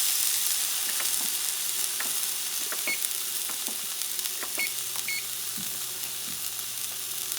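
Wagyu steak sizzles steadily in a hot pan, a continuous crackling hiss scattered with small pops, close and moderately quiet throughout.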